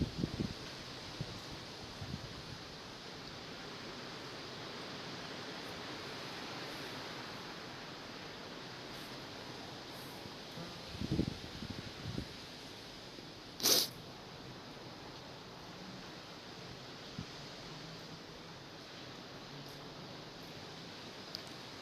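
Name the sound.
strong wind of Cyclone Martina, 25 m/s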